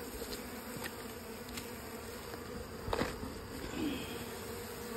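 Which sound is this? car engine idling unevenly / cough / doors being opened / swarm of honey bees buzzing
swarm of honey bees buzzing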